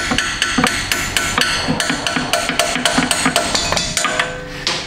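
A hammer beats a 12-point socket onto a Jeep Wrangler front axle bolt, loud sharp metallic strikes in a fast steady rhythm, about twenty blows ringing close up with no talk.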